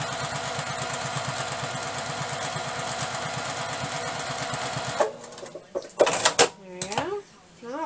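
A sewing machine stitches a seam on a T-shirt quilt with a steady, fast mechanical whir, then stops, followed by handling clatter and a voice speaking.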